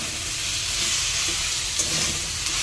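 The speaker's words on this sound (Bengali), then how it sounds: "তো এটাকে ভেজে নেবো, তারপর বাঁধাকপিটা দেবো।" A paste of potato, tomato, ginger and green chili fries in a pan with a dense, steady hiss and sizzle. The sound is close and continuous, and nobody speaks.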